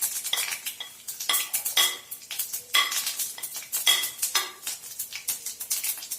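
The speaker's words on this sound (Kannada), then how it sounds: "ಈಗ ಆಯಿಲ್ ಬಿಸಿ ಆಗಿದೆ, ಸಾಸಿವೆ ಹಾಕೊಂತ ಇದ್ದೀನಿ" Mustard seeds and cumin sizzle and crackle in hot oil while a utensil scrapes and clinks against the pan, giving a busy, close, irregular clatter of stirring with no talk.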